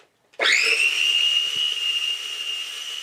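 A kitchen blender starts abruptly and runs on big chunks of onion, a loud high whine that rises quickly to a steady pitch and holds continuously, with a faint knock from the chunks partway through.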